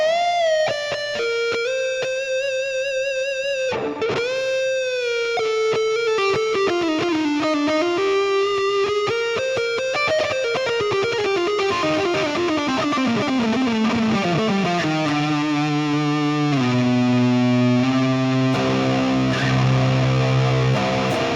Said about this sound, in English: Just got a little reverb in it, or reverb, as they would say.